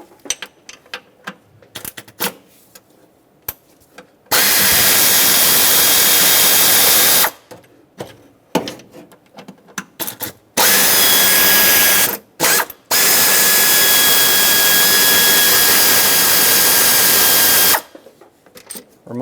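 Power tool spinning out 10mm throttle body bolts on a Ford F250 Super Duty 5.4L V8, three long loud steady whirring bursts separated by short clicks and mechanical handling noises.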